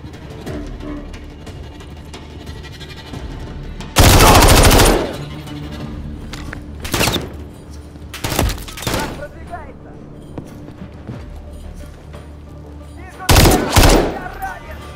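Soldiers' gunfire in a Call of Duty campaign mission: loud automatic bursts around four, seven, eight and thirteen seconds, with quieter background noise between them and voices present.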